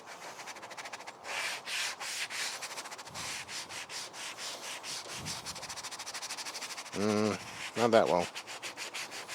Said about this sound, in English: I'm just going to see a little bit of Dawn's soap and this little scrubber will get it off